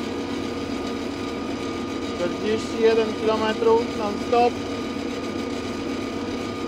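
An Arbos 4100 tractor drives on asphalt at its top speed of about 41 km/h with the engine at 2500 rpm. It makes a steady, even drone throughout, and someone speaks briefly over it.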